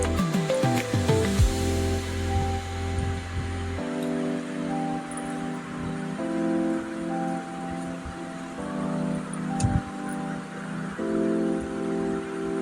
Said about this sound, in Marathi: 4 ते 5 मिनिटं ह्या भाज्या चांगल्या अशा परतून घ्यायच्या आहेत.